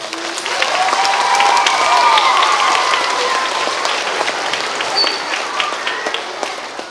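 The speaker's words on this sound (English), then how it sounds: "Give him a round of applause." School audience of children applauding a middle school coach, a dense wash of clapping and some cheers swelling then slowly tapering off.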